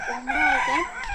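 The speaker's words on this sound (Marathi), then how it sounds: "हा इकडे कोंबडा" A rooster crows once, close and loud, a single drawn-out call with a rising and falling pitch.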